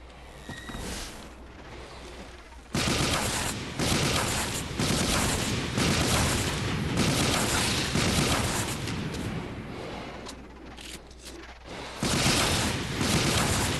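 An upgraded Comrade spread-shot gun in The Cycle video game fires dense, loud bursts, near and continuous for most of the stretch, with brief gaps between volleys.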